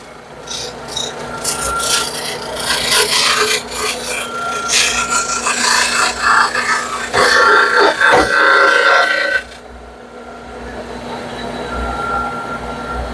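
Steady rasping and rubbing from smoothing a wooden charcuterie board, loud and continuous with short pauses, then dropping to a quieter rubbing near the end.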